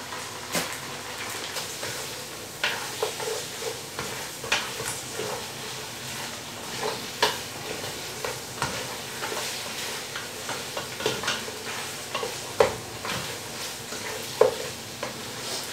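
Tomato paste sautés in a hot pan for beef caldereta, giving a steady sizzle with repeated scraping stirs and clinks of a utensil against the pan throughout.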